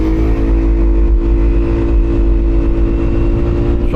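A Yamaha Aerox 155 V3 scooter with an aftermarket performance exhaust runs steadily and loudly close by, holding a constant droning engine note for about four seconds with no clear rise or fall.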